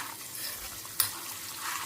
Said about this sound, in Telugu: ఇక్కడేమో పోపు వేస్తున్నాను పల్లీలు శనగపప్పు మినపప్పు అన్నీ వేసాను